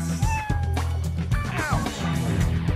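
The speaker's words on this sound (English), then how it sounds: "Nope, just a whole lot of cats." Several cats meowing in the PS2 video game Dog's Life in a park, overlapping plaintive meows over a busy game soundtrack.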